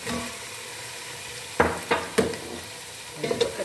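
Meat sautéing in a pan for chicken achar gosht as tomatoes go in, a steady low sizzle with several sharp bursts of frying and stirring, close and fairly quiet.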